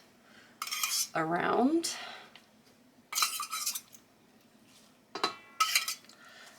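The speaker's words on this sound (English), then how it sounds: "just give it a quick stir, and just use your spoon to dribble it" A spoon clinks and scrapes around a bowl in short bursts, stirring oil and then dribbling it over kale leaves, with a brief swirling scrape in the middle and a few quick taps; a voice speaks a couple of words.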